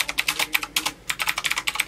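Rapid typing on a Pink Stuff computer keyboard, a steady run of close, crisp key clicks with one short pause midway and no talking.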